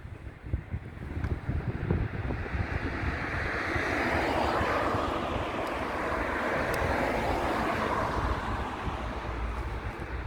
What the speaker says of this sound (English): I'm just keeping an eye on the aircraft that's just about to land.